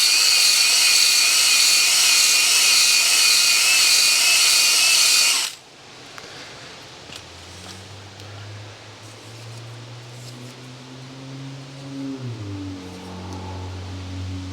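A power hone spins inside a Yamaha 100 Trailmaster cylinder to break the glaze, a loud steady high whir for several seconds that cuts off abruptly, leaving a low hum and faint rattles.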